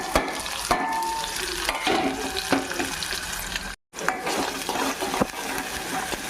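Onion pieces frying in oil with shahi jeera for an Andhra-style mutton masala, a loud close sizzle with occasional stirring scrapes and clicks, briefly cut off midway before resuming.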